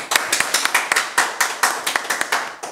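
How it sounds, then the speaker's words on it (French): An audience claps in steady, fairly loud rhythmic unison at a live show, each beat sharp and close, continuing evenly without talk. "Je vais vous applaudir, s'il vous plaît, avec moi."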